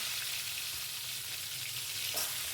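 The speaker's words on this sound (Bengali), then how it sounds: "তেল গরম হয়ে গেছে, তেলের মধ্যেই আগের থেকে সেদ্ধ করে লবণ হলুদ দিয়ে মেখে রাখা ডিম ভাজতে দিয়ে দিলাম।" Salted, turmeric-coated boiled eggs frying in hot oil, a steady close sizzle and crackle with no voices.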